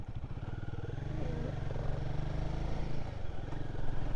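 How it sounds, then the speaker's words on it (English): A Royal Enfield Guerrilla 450 motorcycle, engine rev-limited at 4,000, thrums close and loud with a rhythmic single-cylinder throb and intake growl, steady and slightly rising while riding. "I do like the sound of"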